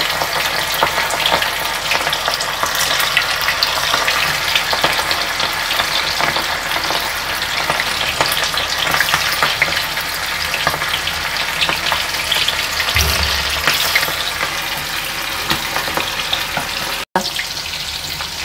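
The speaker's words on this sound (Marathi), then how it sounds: "आता आपलं तेल तापलंय, आपण कोलंबी फ्राय करूया" Prawns frying in hot oil, a loud dense crackling sizzle that runs steadily for a long stretch, close by, with a few brief knocks and no talking.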